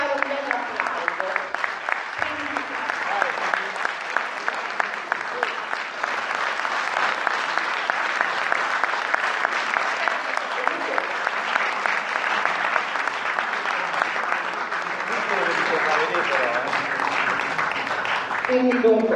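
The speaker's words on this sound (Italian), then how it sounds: "inviterei questi professionisti" An audience applauds steadily at the inauguration of the first restoration phase of the Oratorio di Sant'Antonio, a long, even wash of clapping that carries on for the whole span.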